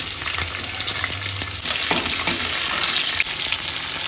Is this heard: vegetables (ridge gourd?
yes